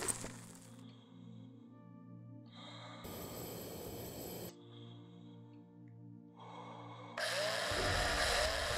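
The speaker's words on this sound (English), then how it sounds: "I'm gonna start drilling these things for electronics." A mining drill in the space survival game Breathedge whirs and grinds in alternating bursts while extracting electronics, with a sustained tonal hum between bursts and a louder harsh stretch at the end.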